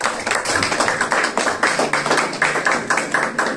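Loud clapping from a church congregation during a Christmas sermon, a dense burst of many hands with rapid overlapping claps that holds steady throughout.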